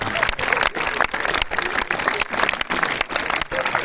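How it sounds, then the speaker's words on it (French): Audience at a live comedy show clapping on cue, rhythmic bursts of applause with regular brief pauses, loud and close, voices mixed in. "Je veux vous voir applaudir tout le monde."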